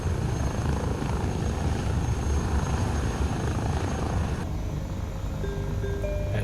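Airbus H160 helicopter in Microsoft Flight Simulator, a steady loud broadband rotor and turbine roar held throughout, thinning and dropping in level near the end as a few faint tonal whines emerge.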